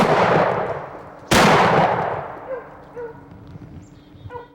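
Shotgun-like blasts from a hare hunt with hounds ring out outdoors, one loud sharp report in the middle with a long fading echo, another sound already trailing off at the start, then faint rustling and distant noises.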